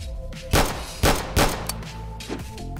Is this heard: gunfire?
yes